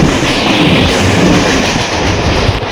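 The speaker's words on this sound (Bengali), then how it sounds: "আর ট্রেন কিন্তু একদম দুর্ধর্ষ জোরদার চলছে" A train racing along at high speed on a line toward Bongaon, heard from inside an otherwise empty compartment as a loud, steady roar with continuous rhythmic wheel clatter throughout.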